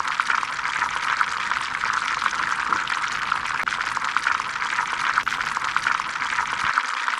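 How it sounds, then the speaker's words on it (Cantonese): Chicken legs deep-frying over medium heat in a wok of oil at about 180°C, a steady dense hiss and crackle that continues evenly throughout with no talking. "將雞髀一面炸大約4分鐘。"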